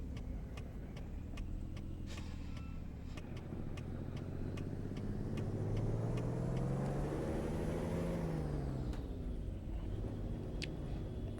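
A Kenworth K100 truck in American Truck Simulator accelerates steadily, its engine drone climbing in pitch and loudness before easing off, with faint ticking clicks throughout and no talking.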